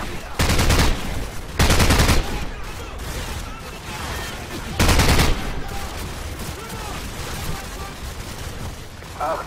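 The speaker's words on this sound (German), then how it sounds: "benutze Ihr Maschinengewehr" Loud bursts of machine gun fire in the Call of Duty 4 Modern Warfare video game, three long rattling volleys separated by sustained battle noise and rumble.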